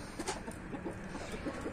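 Soft, scattered clucking from chickens, low murmuring calls overlapping at irregular intervals, somewhat distant and quiet against background noise.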